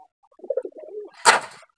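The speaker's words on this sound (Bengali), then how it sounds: "ঘুরতেছে এবং ডাকতেছে, এটা নর কবুতর" A male deshi golla pigeon gives a short soft cooing phrase up close, a few low throaty notes followed by a brief rustling burst, with no talk.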